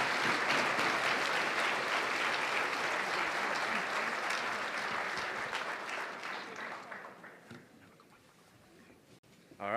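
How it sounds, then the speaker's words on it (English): Audience applause at an Indigenous international education conference, a dense, sustained wash of clapping that gradually thins and fades toward the end. "let's give him another big round of applause"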